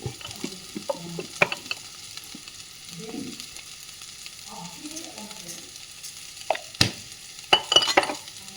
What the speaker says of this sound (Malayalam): കടുക് വറുത്താൽ മാത്രം മതി